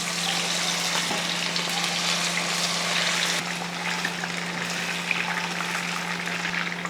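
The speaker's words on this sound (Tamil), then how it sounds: "இப்போ சில்லி பொரிச்சுக்கலாம்." Chilli chicken, a chicken 65 style dish, fries in hot oil with a steady, dense sizzle and crackle throughout, with a constant low hum underneath and no talking.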